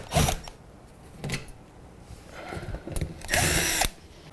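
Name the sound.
power drill removing drywall screws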